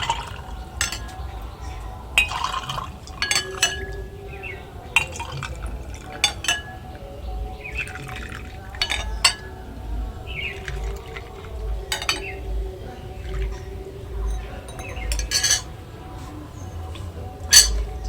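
Mint lemon sherbet poured over into a glass, with scattered clinks, trickles and drips spread out between quiet pauses and faint background voices.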